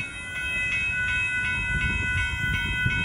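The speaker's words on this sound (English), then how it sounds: "Here comes Amtrak." An Amtrak Texas Eagle passenger train approaches at a road crossing, a steady rumble with a tonal ringing that pulses in an even rhythm, moderately loud throughout with no voices.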